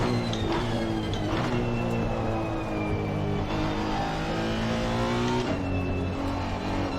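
A 2018 Honda NSX race car in Assetto Corsa Competizione at Spa, its engine roaring steadily and close with rising and falling revs across gear shifts and a turbo whine running through.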